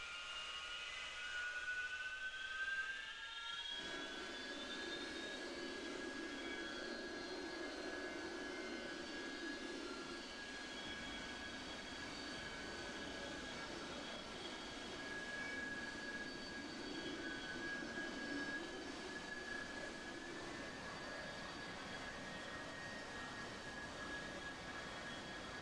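Jet aircraft engine roar in a naval combat game as an unarmed plane lifts vertically off a carrier deck, a steady loud whine with rising high tone holding throughout.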